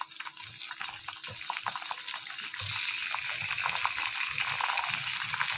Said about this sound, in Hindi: यहाँ पे हमने चिकन को फ्राई करना है पिंक से वाइट होने तक